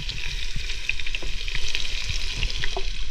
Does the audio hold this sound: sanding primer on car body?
no